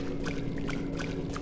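Water in the video game Fatal Frame: Maiden of Black Water pours and trickles steadily, with faint repeated drips or splashes over a constant low hum.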